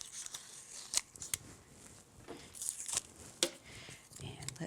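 A multi-purpose craft tool lifts and peels tape from a paper card project with striplet borders, giving soft scraping, crinkling and a few sharp clicks and snaps at irregular intervals, close and fairly quiet.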